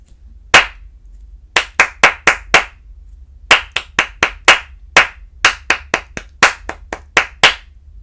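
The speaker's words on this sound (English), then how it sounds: "no words, just clapping" Hands clap out a rhythm-reading pattern in a music lesson, crisp close claps in short groups separated by pauses, some quick pairs and runs, with no voices.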